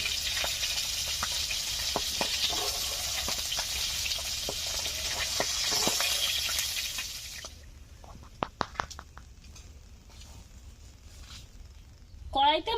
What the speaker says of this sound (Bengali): তার জন্য ঢাকা দিয়ে ভাজছি।